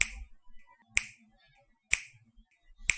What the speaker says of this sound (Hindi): He was snapping his fingers with music.